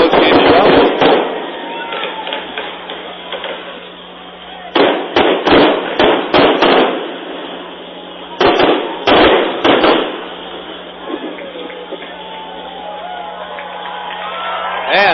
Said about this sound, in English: loud display of fireworks after the All-Star game